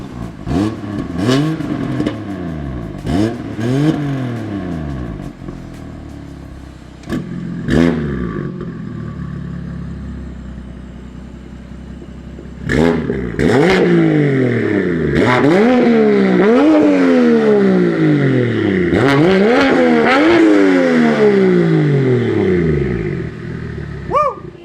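A silver single-turbo BMW F82 M4 revved repeatedly while stationary, sharp loud throttle blips that rise and fall, a short pause, then a longer series of hard revs close by with turbo whine.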